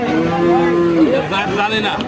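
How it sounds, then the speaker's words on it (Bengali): A crossbred cow at a Rajshahi city cattle market lets out a single loud, close moo, long and drawn out, with a lowering tail. "ক্রস ব্রিডের গরু নাকি? ক্রস। আচ্ছা আচ্ছা, বিশাল দেহে একটা গরু দেখেন।"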